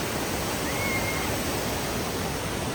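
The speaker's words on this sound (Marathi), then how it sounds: "हा एक वॉटरफॉल" A waterfall near Jawhar roars in a steady, broadband rush of falling water, constant and fairly loud throughout, with no talk over it.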